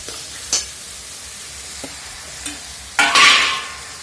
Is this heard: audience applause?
no